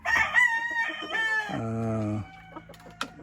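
A gamefowl rooster from a Sweater x Boston Roundhead breeding pair crows loudly and close by in one long, rising-then-falling call, followed by a few soft clucks and a short sharp note.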